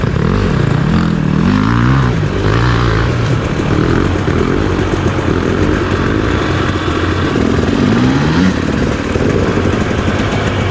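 A motocross bike climbing a steep hill on an enduro course, engine revving hard in rising and falling bursts, loud and close, with gear changes and throttle surges, no speech.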